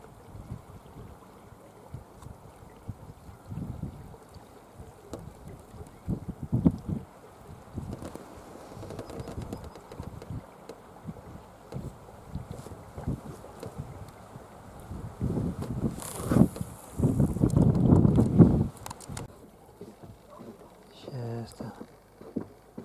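Gusty wind buffets the microphone in low rumbling bursts on open water, strongest near the end, with faint outdoor background and occasional murmur.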